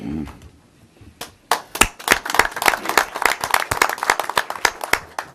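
Audience at a parish council meeting applauding after a press association honor: after a quiet lead-in, a dense burst of many clapping hands rises and continues steadily, fairly close and loud.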